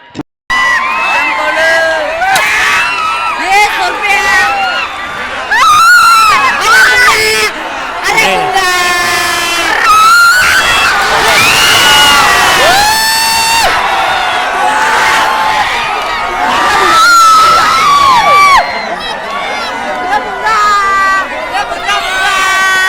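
Large crowd of spectators cheering, whooping and shouting at a nighttime bullock cart race, loud and continuous with dense overlapping voices and whistles rising and falling throughout.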